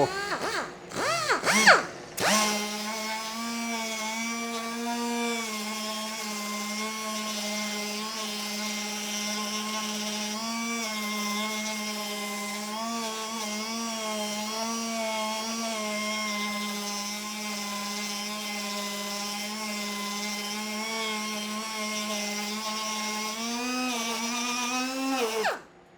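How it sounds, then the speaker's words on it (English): A Pros Mini random orbital sander screams continuously at a high steady pitch after a brief rising spin-up, loud and close, holding nearly constant with slight wavers until it cuts off at the end. "This is our Pros Mini random orbital sander"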